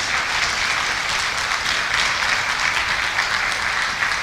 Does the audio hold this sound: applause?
yes